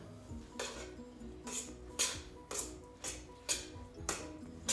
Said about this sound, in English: you go ahead and give that a stir until it starts to really become a cohesive salad